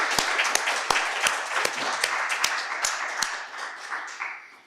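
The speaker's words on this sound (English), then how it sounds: "Let's give her a quick round of applause." A quick round of applause from a seated audience at an academic lecture, with dense hand clapping and a few sharp louder claps standing out, steady then tapering off toward the end.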